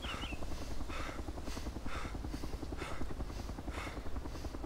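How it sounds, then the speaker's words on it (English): Helicopter in the Arma 2 DayZ Overpoch mod passing overhead, a steady loud rotor thump with rhythmic blade chop throughout, no talk over it. "I hear a chopper."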